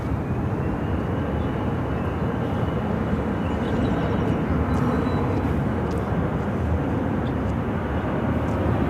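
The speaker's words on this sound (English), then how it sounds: "This American Airlines Airbus A321 with the flagship Valor livery is headed to Charlotte." An American Airlines Airbus A321 jet at Phoenix airport gives off a loud, steady broadband roar with a faint high whine, holding unbroken across the whole stretch with no voices.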